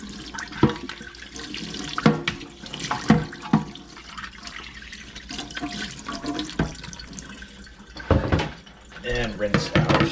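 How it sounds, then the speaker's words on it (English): Tap water runs and splashes as removable coffee machine parts, a dump box and brew unit from a Saeco Vienna Plus, are rinsed under it, with irregular loud splashes and clatter from the sink, and a person talks throughout. "Just rinse out the dump box, rinse off the brew unit,"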